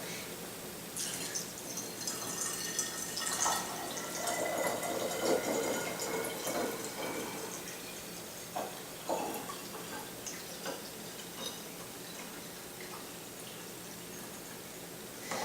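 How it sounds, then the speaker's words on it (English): Water kefir poured into a bottle, a close, steady trickle of liquid with gurgling and drips that shifts as the bottle fills, heard alone without talking. "So from there, I'm going to go ahead and put it into my bottle."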